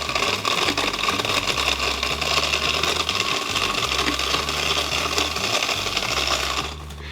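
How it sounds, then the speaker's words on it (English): A blender runs loud and steady, crushing ice with coconut; a continuous motor whir with rattling, clattering chunks throughout, dropping off sharply at the very end. "Bring in Mr. Blender real quick, and we are going to blend this up."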